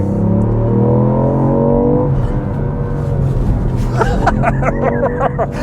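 A Ford Puma ST is driven hard into a corner, its engine loud and revving from inside the cabin, then dropping away, with a chattering mechanical burst near the end and a faint voice underneath.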